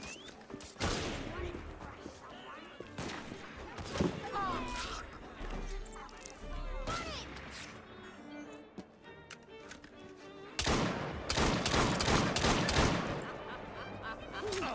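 Bursts of gunfire in the video game Assassin's Creed Syndicate, loud clustered shots early and again near the end, mixed with game sounds, music and voices talking.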